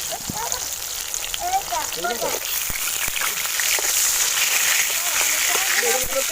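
Eggplant slices frying in oil in a covered pan, a steady loud hiss and crackle running throughout with bursts of popping, while a voice talks over it.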